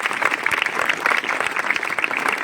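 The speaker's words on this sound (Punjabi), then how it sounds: "ਤਾੜੀਆਂ ਮਾਰ ਕੇ ਦਿਖਾਓ ਇੱਕ ਵਾਰੀ" Students at a school clap together after a street play, brisk crowded applause filling the whole moment at steady volume, close and lively.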